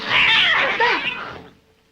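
A cat lets out a loud, drawn-out yowling meow, close and harsh, rising and wavering before fading away within about two seconds.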